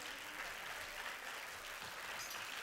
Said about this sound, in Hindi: उनके लिए ज़्यादा से तालियां तो बजनी चाहिए कि नहीं।